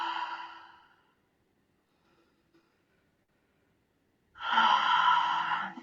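Two slow breaths during a guided meditation, the first fading out, then a quiet pause before a louder, fuller exhale; close and soft, with no talking.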